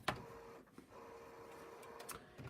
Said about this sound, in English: the printer goes back to printing